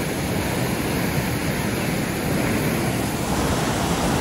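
Water rushing out under high pressure, a loud, constant broadband roar with no pauses, close and unbroken throughout.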